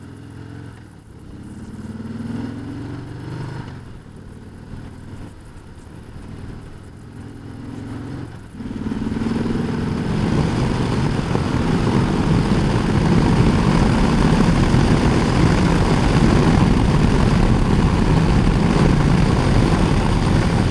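A 2019 Harley-Davidson Sport Glide motorcycle roars as it accelerates hard to pass, its engine swelling from a moderate rumble into a loud, sustained drone that holds steady to the end.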